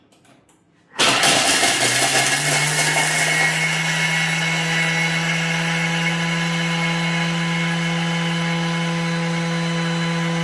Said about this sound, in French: j'ai mis mes 100 g de chocolat blanc et je vais mixer de nouveau 10 secondes, vitesse 10